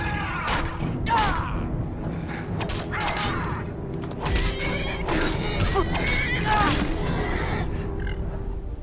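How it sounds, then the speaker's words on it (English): A Daedric horse in the Skyrim video game neighs and snorts amid dense game sound effects and fighting clatter, with repeated whinnies and grunts over a constant loud backdrop. "Continuing on, we see the Daedric horse in the first of Dagon's Dremora, Valken Gatanis"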